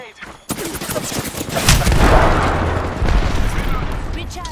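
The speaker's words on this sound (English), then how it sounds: "Enough, I'm getting shot at." Bursts of automatic gunfire ring out in an Apex Legends match while playing as Lifeline. The shots come loud and close, with a sharp onset after a brief quiet, and keep rattling over a dense mix of game sounds.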